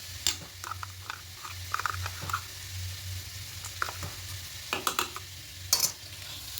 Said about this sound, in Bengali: এবার পেস্টটা কষা হয়ে গেছে।